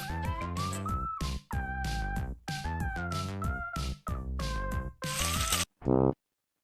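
Cat meows in a meme clip, a run of about eight loud, drawn-out tonal meows in quick succession with short gaps, ending in one sharp, brief final cry before silence.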